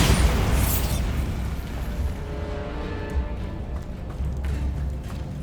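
A Bombarda blasting spell cast in Hogwarts Legacy: a loud explosive burst at the start that fades into a long rumbling decay over ambient game sound.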